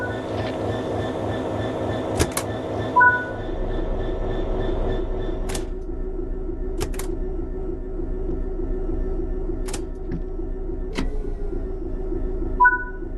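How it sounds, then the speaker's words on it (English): A Class 66 diesel freight locomotive in a train simulator idles with a steady low engine rumble, while sharp clicks from cab controls and short tones sound over it. "you will be taken through the operation of this Class 66 locomotive"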